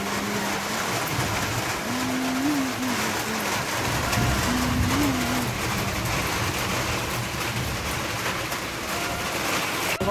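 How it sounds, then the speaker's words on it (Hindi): Steady rain falls and patters on surfaces, a continuous wash of noise with a low engine-like hum briefly rising in the background. "देखो ये हो रही है बारिश"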